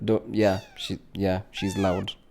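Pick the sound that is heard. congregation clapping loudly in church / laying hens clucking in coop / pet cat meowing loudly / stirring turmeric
pet cat meowing loudly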